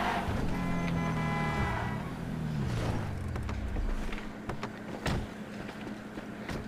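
A car in GTA V accelerates hard, its engine note rising, then sweeping down and fading over several seconds, with a few sharp knocks and thuds near the end.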